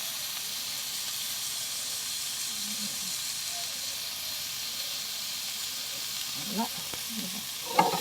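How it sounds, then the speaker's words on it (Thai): Thai herb paste dry-roasts in a pan with a little oil, giving a steady close hiss and sizzle with a few faint scrapes near the end. "เครื่องสมุนไพรต้องคั่วให้หอมไปนะคะ"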